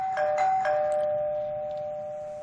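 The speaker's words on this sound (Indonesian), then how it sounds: "Ada yang ngebel ya?" A newly installed household doorbell rings indoors, a clear two-tone chime struck a few times in quick succession, its tone lingering and fading out alone.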